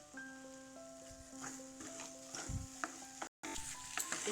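Potato and corn tikki mixture is stirred and scraped in an iron pan with a little oil, giving a steady sizzle with repeated spoon scrapes throughout and a brief dropout near the end.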